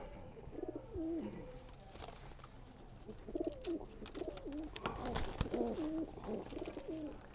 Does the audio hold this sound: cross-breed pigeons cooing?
yes